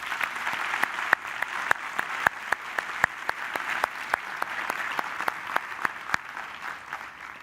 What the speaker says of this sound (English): I think a round of applause for them is...